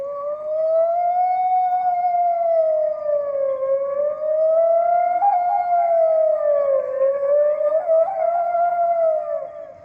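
A voice imitates the siren of a fire engine from the fire service, a loud continuous wail that rises and falls in slow waves for about ten seconds, heard alone with no other sounds.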